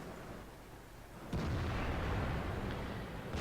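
Artillery fire in a tank video game: a sudden deep boom about a second in, followed by a sustained loud rumbling roar, with no talk.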